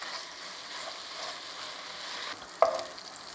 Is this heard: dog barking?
no